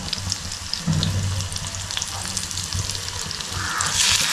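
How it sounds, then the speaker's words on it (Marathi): Garlic and green chili fry in heated oil in a home kitchen, a steady close crackling sizzle with a brief louder flare early on and a rising hiss toward the end, no talking. "आता आपण तेल पण गरम करत ठेवलं आहे आणि त्याच्यामध्ये लसूण टाकला आहे"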